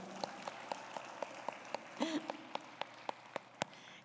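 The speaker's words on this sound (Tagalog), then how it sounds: "Kusog nga palakpak para sa Dios igsoon." A few sparse, evenly spaced claps ring out in a quiet church service, a slow single-handed rhythm with a brief voice in the middle.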